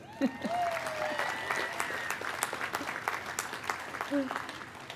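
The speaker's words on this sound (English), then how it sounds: "we can recognize her one more time with our applause" Commencement audience applauding an honoree at a college ceremony, a steady wash of clapping across the hall with voices and a whistle-like tone rising over it.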